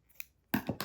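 Scissors trimming a yarn tassel, a faint snip followed by a couple of louder, close cutting crunches in quick succession.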